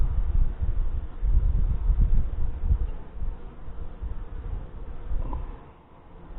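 Honey bees with Saskatraz queens buzz densely at an open hive on a hot day in Wisconsin, a close, continuous drone that swells and fades slightly as the insects move around.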